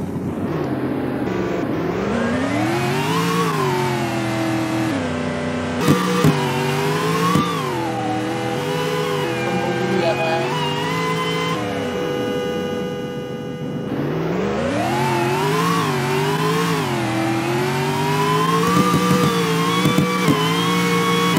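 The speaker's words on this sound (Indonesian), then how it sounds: "Oke, bagus mobil. Kita kencengin deh suaranya daripada enggak ada suara." A car engine in a Roblox Greenville driving game revs up and down in repeated long sweeps, a loud steady synthetic whine rising and falling over about twenty seconds with no talk.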